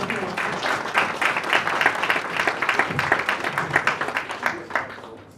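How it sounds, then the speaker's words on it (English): An audience at a civil society convening claps for a professor, a lively burst of many hands with distinct, rhythmic slaps that gradually thin and fade toward the end. "Let's give her a round of applause."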